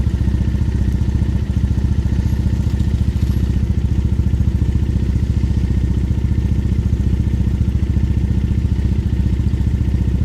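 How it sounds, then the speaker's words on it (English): A motorcycle engine drones steadily and loudly throughout a ride through Tokyo, a constant close hum with no clear revving and no talking. "the bike sounds great"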